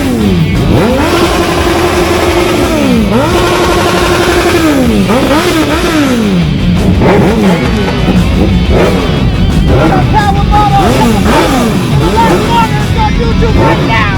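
A Suzuki Hayabusa motorcycle at a supercar and motorsports meetup at Hard Rock revs loudly and close by, its engine pitch sweeping up and down repeatedly before settling into busier revving, with voices faintly behind.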